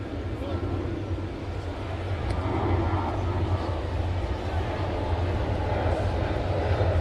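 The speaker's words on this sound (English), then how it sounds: "It feels like the planes coming into LaGuardia are very active in this early evening, isn't it?" Aircraft engine rumble from planes descending toward LaGuardia airport on an early evening, a steady low drone that builds slightly, heard alongside ballpark ambience at a Brewers–Mets baseball game.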